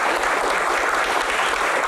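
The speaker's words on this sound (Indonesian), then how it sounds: "Tepuk tangan untuk Pak Menteri." Audience applause for a government minister at a public Q&A event, a dense steady clapping that holds at even loudness throughout with no voices over it.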